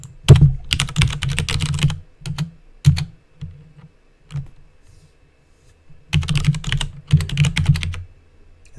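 Bursts of rapid clicking on a computer keyboard, close and fairly loud, come in clusters separated by short pauses and isolated single keystrokes, with no talking.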